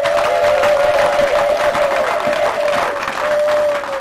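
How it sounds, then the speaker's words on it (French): A crowd at a Congolese national police ceremony in North Kivu applauds two women before them, steady dense clapping with some cheering and a sustained tone running underneath. "que nous applaudissions ces deux dames qui sont devant nous"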